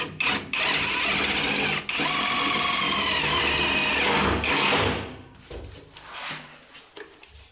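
A power drill whirs in long bursts as self-drilling screws bore into a metal profile, stopping and restarting, followed by lighter clicks and handling noises.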